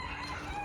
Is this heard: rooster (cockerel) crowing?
yes